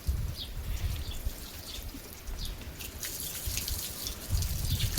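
Water poured over a dog's head during a village bath, splashing and trickling close by with scattered drips, steady and without talk.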